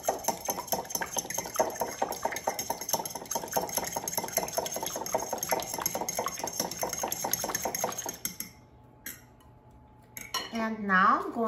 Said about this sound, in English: And whisk them with a fork, or with a whisk, whatever you prefer.